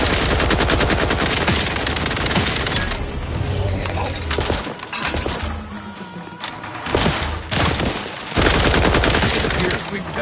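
Sustained automatic gunfire from a firefight in the video game The Outer Worlds 2, dense rapid bursts that stay loud throughout, with brief lulls and a few heavier impacts between volleys.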